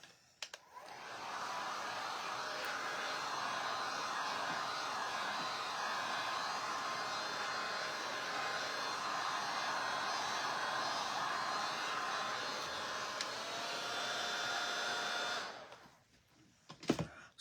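A hair dryer blows steadily for about fifteen seconds over a fabric bunny craft piece, a loud, even whoosh close to the mic. It clicks off at the end.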